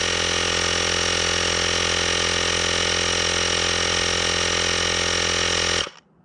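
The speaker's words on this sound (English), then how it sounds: "this little blower thing, this little air compressor thing, had enough juice to fill up a Ford Ranger tire" An ASPERX portable rechargeable air inflator runs close and loud, filling a Ford Ranger tire with a steady buzzing motor drone that holds constant for several seconds and then cuts off abruptly as it shuts off near full pressure.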